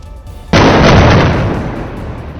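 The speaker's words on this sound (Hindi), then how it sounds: "शहर में एक के बाद एक कई धमाके हो रहे हैं" A sudden, heavy explosion erupts after a quiet start, a loud broadband blast that rumbles on and slowly fades, like buildings being blown apart.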